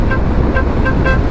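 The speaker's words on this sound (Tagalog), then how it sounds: "Pag bumusina ka," A motorcycle horn honks amid steady road traffic, sounding several short repeated beeps over a constant roar of engines and road noise.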